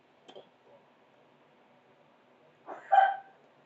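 A single sneeze bursts out close and loud near the end, after a faint short sound early on and a quiet pause.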